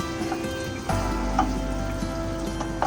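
Steak tidbits sizzle and fry in soy sauce in a pan. The frying is loud and close, with steady crackling and a few stirring scrapes.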